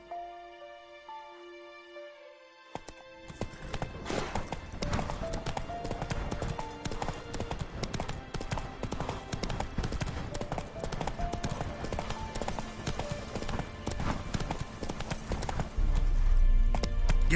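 Roach, the horse in The Witcher 3, gallops with rapid, dense hoof clip-clops that start abruptly after a few seconds of quiet game music and continue loud and close. The galloping ends with a louder rumbling thud.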